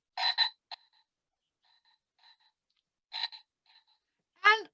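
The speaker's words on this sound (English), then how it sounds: "And all of you are going to say a frog, that's right." Frog croaking played as a classroom sound quiz: a few short croaking bursts separated by quiet gaps, moderately close, ending in a rising warbled call.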